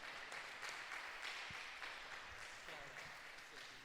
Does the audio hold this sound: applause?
yes